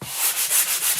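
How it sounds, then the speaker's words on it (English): Sandpaper rubs by hand over a chalk-painted pumpkin in quick back-and-forth strokes, a close, bright scratchy swishing with a steady rhythm and no voices. "so I just kind of like to give it a quick little sanding here"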